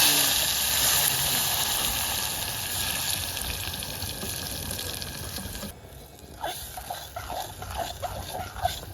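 Chopped onions and tomatoes fry in hot oil, a bright, steady sizzle filling the first several seconds before it drops away, leaving scattered clinks and taps of utensils.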